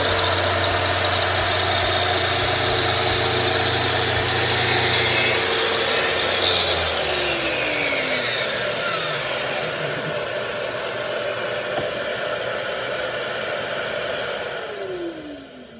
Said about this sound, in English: I did not let it release until the saw had come to a complete stop.